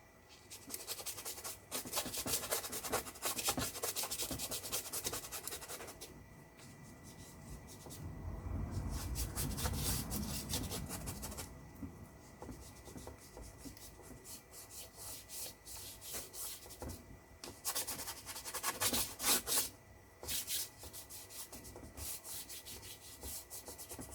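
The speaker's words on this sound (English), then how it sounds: "I always like to blend with my fingers." Soft pastel rubbed and blended by fingers across sanded paper, a steady close dry scraping and swishing that comes in long strokes with brief pauses, with no voices.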